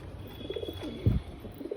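Madras pigeons cooing in a home loft at dusk: a brief, low, throaty coo rises near the middle over a quiet background.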